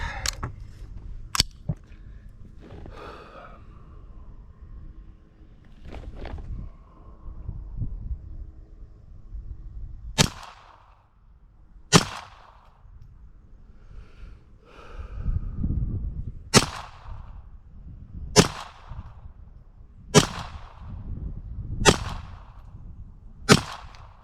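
A Browning Buckmark Hunter .22 LR pistol fires CCI Standard Velocity 40 grain rounds at a range, sharp cracks coming singly and then in a quicker string of about eight shots, with quiet handling sounds in between.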